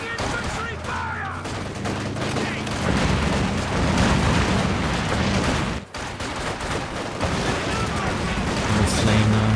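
Infantry gunfire in Company of Heroes, a WWII strategy game: dense rattling volleys and bursts with heavy thuds mixed in, loud and continuous, with a brief dip midway.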